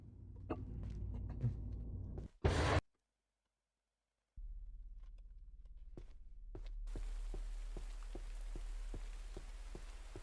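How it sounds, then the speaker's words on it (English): Rain patters on surfaces in the video game Labyrinth of the Demon King, a faint steady hiss with scattered drops and footstep-like taps, briefly interrupted by a louder burst and a moment of silence before resuming. "Was it always raining outside?"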